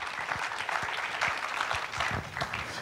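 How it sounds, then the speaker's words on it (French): An audience at a sports colloquium applauds the guests, a steady, dense wash of clapping from many hands that stays at an even level throughout, with no one speaking over it. "Et on peut les applaudir."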